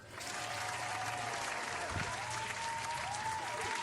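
An audience at a Tamil comedy stage show breaks into steady, dense clapping that swells in quickly and holds evenly throughout, with no voices over it.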